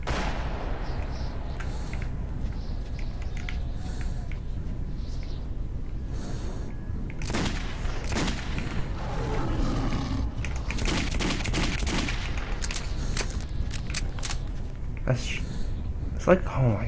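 Bursts of gunfire ring out in Metro 2033, sharp repeated shots scattered through the stretch with a spoken voice running over the top.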